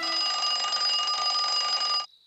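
A wound-up mechanical alarm clock rings in one loud, continuous metallic bell trill for about two seconds, then stops abruptly, heard alone without voices.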